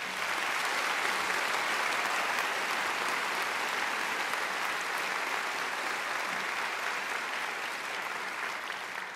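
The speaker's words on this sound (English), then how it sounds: "I think she deserves another great round of applause." A graduation audience gives a long, steady round of applause for a singer. It is dense and even and lasts the whole stretch, with no talk over it.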